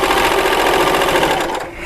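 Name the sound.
Baby Lock Celebrate sewing machine sewing a quilt seam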